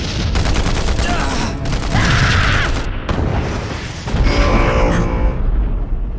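Dense gunfire and explosions from the PS2 first-person shooter BLACK: rapid automatic bursts layered with booming blasts and debris, loud and continuous, with a heavy explosion near the end.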